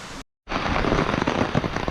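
Dense, steady monsoon rain in a Konkan village pours down with a constant hiss and patter, heavy and close, briefly cutting out near the start before resuming.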